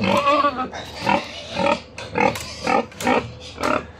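Farm pigs grunt and squeal while being fed swill, a series of about seven loud, rhythmic nasal grunts in quick succession, close to the listener.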